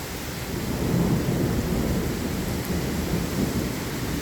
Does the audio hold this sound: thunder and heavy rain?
yes